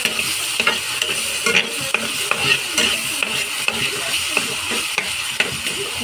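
Onion, garlic and tomato seasoned with salt and pepper sauté in a pan, giving a constant close sizzle with regular scraping stirs and small pops and no voices over it.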